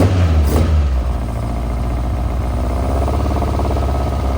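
A 2013 Lowcost 7 kit car with a Ford Pinto engine runs steadily at idle, a continuous near, even engine drone with a low throbbing pulse and no voices.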